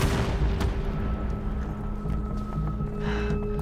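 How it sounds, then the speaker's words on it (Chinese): Distant gunfire and artillery rumble from outside a besieged city in an anti-Japanese war action film. Muffled booms and scattered shots rise over a constant low drone, and a few sharp cracks stand out. "枪声来自城外。"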